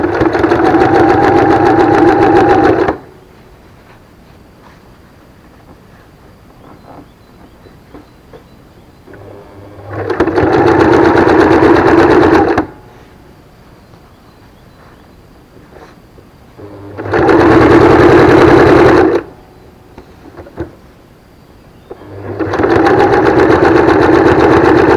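A sewing machine stitches fabric for a scrunchie in four separate runs of a few seconds each, with quiet pauses between the bursts.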